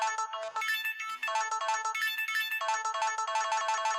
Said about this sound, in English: I want the intro to be played by the battery low sound.